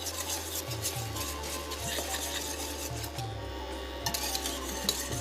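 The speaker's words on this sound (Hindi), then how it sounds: "फिरनी का नाम इसीलिए है कि साहब फेरना पड़ता है इसको, तो फेरते रहिएगा बस" Steady scraping and rasping of a spoon stirring thick, thickening phirni in a pot, with repeated strokes against the metal and occasional light clinks, close and alone without talk.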